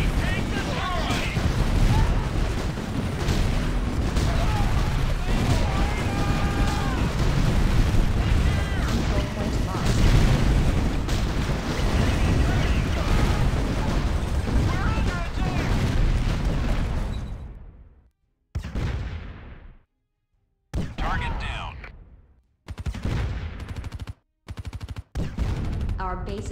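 Battle in the Art of War 3 strategy game, with dense continuous gunfire and explosions that then break into short bursts separated by silences, with game voice lines over it.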